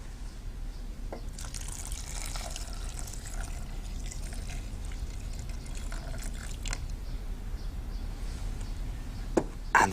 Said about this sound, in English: and just enough water to cover them.